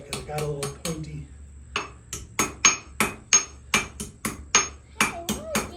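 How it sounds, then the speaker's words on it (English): A hammer taps hot metal during forge welding, striking about a dozen light, evenly spaced blows that each ring sharply and briefly, close and clear, after a short opening flurry. "you want to start with light taps when you're forge welding"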